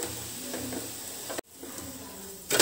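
A sooji vegetable pancake sizzles steadily in a hot pan, with a short clatter and a near-silent gap at the flip before the frying hiss resumes and swells at the end.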